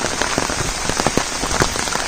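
Rain falling in a Konkan village during the monsoon, a steady close patter of drops striking surfaces with scattered sharper splats, heard alone.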